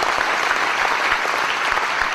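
A crowd at Alain Juppé's 2015 political rally in Bazas, Gironde, breaks into sustained, dense applause, many hands clapping together in a full, steady roar with no speech on top.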